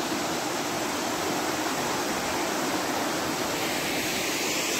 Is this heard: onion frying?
no